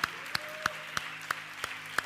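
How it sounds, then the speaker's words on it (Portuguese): A church congregation claps in a slow, even rhythm, about seven sharp, crisp claps evenly spaced over two seconds against a quiet background. "dê um forte aplauso ao Senhor, em nome de Jesus, aleluia."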